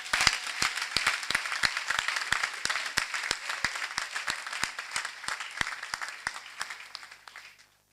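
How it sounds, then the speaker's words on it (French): A church congregation applauds the national vice-president of the laity at a thanksgiving service in San Pedro, with sustained clapping and sharp individual claps standing out, tapering off at the end. "cela mérite notre acclamation"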